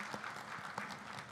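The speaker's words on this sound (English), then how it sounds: "You can join me in giving them another round of applause." Audience at a regional workforce panel event clapping for the panelists, a steady, fairly faint wash of applause throughout.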